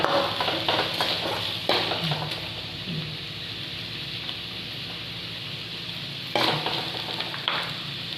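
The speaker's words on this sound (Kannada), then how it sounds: "ಒಂದು ದೊಡ್ಡ ಈರುಳ್ಳಿಯನ್ನು ಹಾಕಿದ್ದೇನೆ ಈರುಳ್ಳಿ ಈಗ ಫ್ರೈ ಮಾಡುವ" Chopped onion frying in a pan during a Mangalore-style chicken pepper recipe, a steady close sizzle with occasional stirring scrapes and utensil knocks, no voices.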